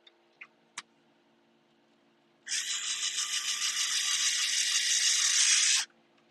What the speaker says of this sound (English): That was the sound of the plastic screw stripping out.